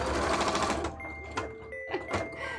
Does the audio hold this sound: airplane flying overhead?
no